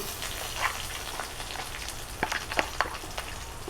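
Onions with ginger paste, garlic paste and green chilli paste frying in a pan, giving a steady soft sizzle with a few sharper crackles and pops toward the end.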